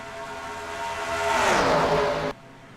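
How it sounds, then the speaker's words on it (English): In a stock car racing video game at Michigan, a race car scrapes along the outside wall off turn 2. A loud engine whine sweeps downward into a rough grinding rush, then cuts off sharply. "Do you hear the scraping?"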